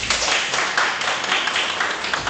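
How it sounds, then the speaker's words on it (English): Audience applause after conference presentations on citizen education, brisk close clapping that stays loud and fairly even with small bursts, no speech over it. "Can we give them a big applause,"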